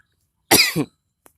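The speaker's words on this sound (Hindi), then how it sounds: "खांसी आ रही है, अब कोरोना मत समझिएगा।" A single short, dry cough, close and fairly loud, followed by a tiny click and otherwise silence.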